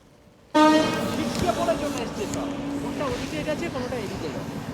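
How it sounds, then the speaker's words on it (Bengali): A train runs along the railway line beside derelict carriages from the Jnaneswari Express accident site, starting abruptly with a sustained horn-like tone and a continuous rumble that stays loud and close. "আর লাইন থেকে নতুন ট্রেন যাচ্ছে যেমন হয়"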